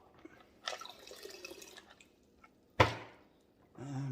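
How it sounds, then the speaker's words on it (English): Water dumped out of a 12 lb rock tumbler barrel full of jasper: a brief splashing pour, a sharp knock, then a short trickle, all close and fairly quiet. "we're going to dump a little bit of the water out."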